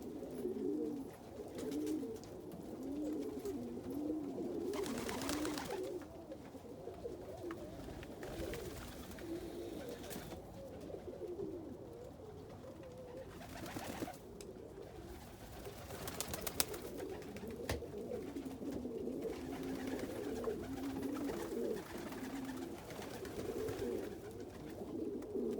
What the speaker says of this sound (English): So this is a crested saddle Homer.